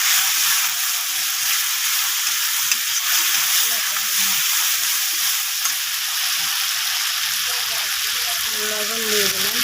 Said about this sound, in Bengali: এই পর্যায়ে আমি এখন মশলাটা দিয়ে দেবো।